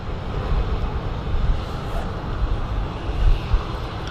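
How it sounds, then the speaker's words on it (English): A Ryanair airliner taxis past at Manchester Airport, a continuous low engine rumble that swells slightly, mixed with gusty wind buffeting on the microphone. "Nice close-up shot there of the Ryanair taxiing past"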